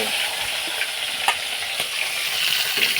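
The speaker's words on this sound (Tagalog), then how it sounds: "painit na tayo ng mantika. Ilagay natin si banak ngayon." Mullet fish (banak) frying in hot cooking oil, a steady loud sizzle with soft crackles and a few bubbling pops, with no voices.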